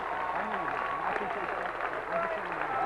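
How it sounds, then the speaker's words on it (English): A baseball crowd applauding a pinch runner at a high school championship game between Santa Rosa and De La Salle, a steady wash of distant clapping under a play-by-play announcer's voice. "he gets a hand from the crowd"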